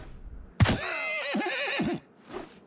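A horse in the medieval battle game Mount & Blade 2: Bannerlord lets out a single loud, wavering whinny after a sharp impact, trailing off into a short snort, with faint hoofbeats nearby.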